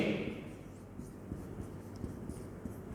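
Chalk or marker scratches across a classroom board during a maths lesson, soft rhythmic strokes and taps close by over a steady room hiss.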